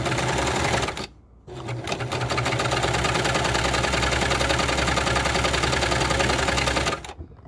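A Baby Lock Victory serger running a 4-thread stitch on plain cotton fabric, a fast steady mechanical whirring chatter that stops briefly near the start, then runs continuously and loud at close range before cutting off.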